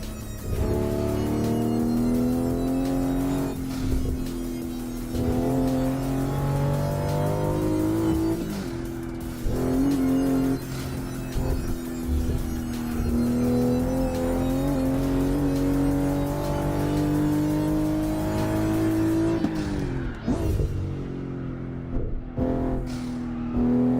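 Race car engine in the Assetto Corsa driving game, a steady loud drone with sustained engine harmonics rising and falling through shifts for most of the stretch, easing near the end.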